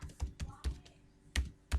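Close, distinct keystrokes tap out text on a computer keyboard while code is written, coming as an uneven run of single clicks with short gaps and a couple of sharper presses near the end.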